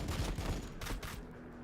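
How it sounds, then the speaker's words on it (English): Main cannon fire from a tank-like vehicle in Warhammer 40k: Battlesector, dense booming blasts and crackling bursts in the first second, then a rumbling tail that fades out. "Now shoot Laying down fire."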